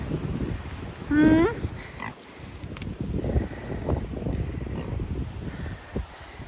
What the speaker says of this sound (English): Am I being surrounded by pigs?